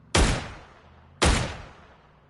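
Two loud gunshots in PUBG, a second or so apart, each a sharp crack with a decaying echoing tail; no other sounds in between.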